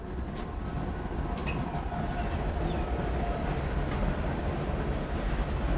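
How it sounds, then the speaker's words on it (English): A train passing by near Three Valley Gap, heard as a steady, loud rumbling roar that holds at an even level throughout with no pauses, with no voices over it. "Oh, the train's going by. You can hear that."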